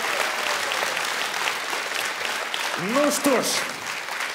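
Steady audience applause fills a live semifinal broadcast of the children's edition of Ukraine's Got Talent, continuing loudly throughout while a host speaks over it.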